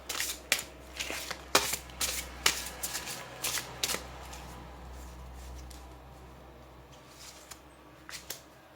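Tarot cards being shuffled by hand: a series of crisp riffling and slapping bursts in a steady rhythm, close and clear over a low hum, slowing and thinning toward the end.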